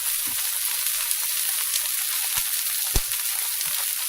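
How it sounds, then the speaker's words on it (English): Scrambled eggs sizzle in hot oil in a pan, a steady close frying hiss with a few soft clicks and taps of a utensil, no voices. "I'm going to scramble my eggs right in with this"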